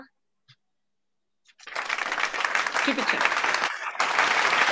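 A group of children bursts into sustained clapping after a brief quiet, many hands applauding together at close range.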